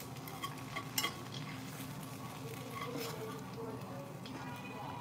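Chilean seabass fillet set into ginger brown butter in a hot pan, giving a steady close sizzle and spatter with a few utensil clinks and pan knocks, someone talking over it.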